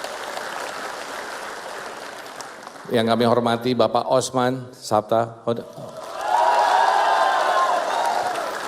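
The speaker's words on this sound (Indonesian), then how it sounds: "Tepuk tangan untuk Pak Mardiono." Audience applauding and cheering at an Indonesian political party gathering for Muhammad Mardiono, chair of the United Development Party; a broad crowd roar is heard before and after a stretch of amplified speech from the announcer.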